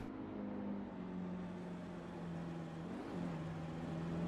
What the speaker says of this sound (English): I want to listen to this car from the track side.